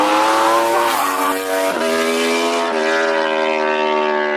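A high-revving sport motorcycle engine screams and shifts pitch upward through several gears, loud and close, with no talking.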